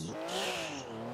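A Volkswagen Beetle engine revs in one brief, fairly quiet burst, its pitch swelling up and then easing back down.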